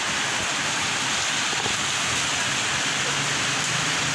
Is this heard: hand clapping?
no